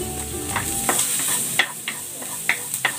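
Garlic sautés in a hot pan, sizzling steadily while a spatula scrapes and stirs in several sharp, irregular strokes.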